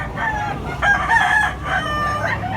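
A rooster crows loudly nearby, a drawn-out call repeated twice, with other chickens clucking in the background.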